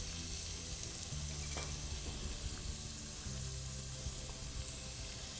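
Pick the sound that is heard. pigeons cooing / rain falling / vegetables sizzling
vegetables sizzling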